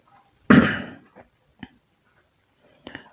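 A single sharp cough rings out close and loud, then fades, followed by a few faint small throat sounds and clicks in a quiet room.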